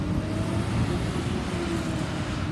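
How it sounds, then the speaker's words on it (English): A truck passing on a road, a steady broadband rumble and roar of engine and tires that stays loud throughout, with low traffic noise and no speech. "Let that truck go past."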